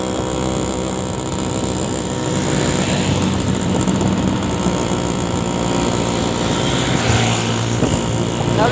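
A palm oil truck's engine runs steadily while driving, a loud continuous droning roar with a rattling mechanical texture that holds throughout, no voices over it.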